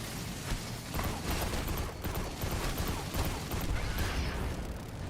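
Turret gunfire in Destiny 2, a dense fusillade of rapid shots rattling steadily and loudly throughout, with bursts of impacts layered over a constant combat din.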